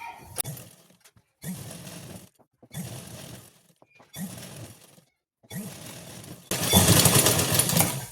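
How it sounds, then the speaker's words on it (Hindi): A sewing machine stitches along a blouse neckline in short bursts: four runs of whirring stitches separated by pauses, then a louder, faster final run, close and alone. "ये नीचे भी हम इसको इस तरह से सिलाई लगा देंगे।"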